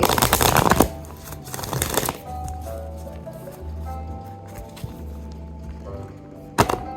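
Tarot cards being shuffled in two brisk riffling bursts close up, followed by a few soft thunks and light handling sounds as cards are drawn and laid down.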